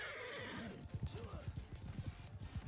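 Horse hooves clip-clop in a quick irregular rhythm and a whinny rises at the start, sounds from the Mount & Blade Bannerlord II battle game, heard close and fairly loud with a voice talking over them.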